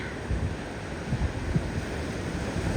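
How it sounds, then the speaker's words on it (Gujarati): Sea waves roll in at sunrise, a steady wash of surf with soft swells under constant wind noise on the microphone, and no voices present. "દરિયાના મોજા દેખો."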